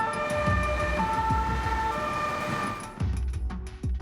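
A fire engine siren from a steel company's fire service wails loudly and continuously over a low vehicle rumble, with steady high tones and repeated sweeping pitch swoops, with no voices.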